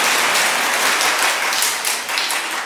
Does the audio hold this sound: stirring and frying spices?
no